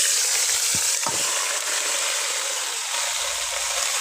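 Malabar spinach greens hit hot oil in a pan for a pui shak and pumpkin dish, giving a loud, steady sizzle that fills the whole stretch, with a couple of brief stirring clanks near the start.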